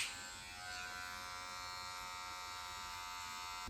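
Electric hair clippers with the lever closed buzz steadily and close while cutting short hair for a high taper, a constant even drone with no talking.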